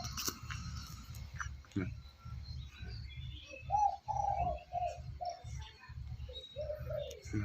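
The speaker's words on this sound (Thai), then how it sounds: "อันนี้ก็นกรีวนะครับ" A dove coos repeatedly in soft, mellow phrases over a low rhythmic background thumping, with quiet chirps scattered in between.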